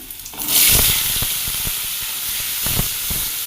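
Onions dropped into hot oil with garlic and ginger for a vegetable gravy, a loud burst of hissing that settles into a steady close sizzle with faint stirring knocks.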